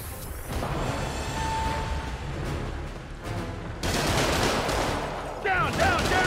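Rapid bursts of gunfire from enemy shooters in the Marvel's Spider-Man game, crackling in dense volleys that grow louder toward the end, with a busy mix of impacts layered underneath.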